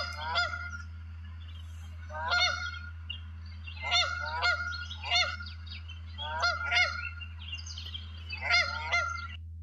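Wild Canada geese honk in a series of nasal calls, about six bursts spaced a couple of seconds apart, loud and close over a steady low hum.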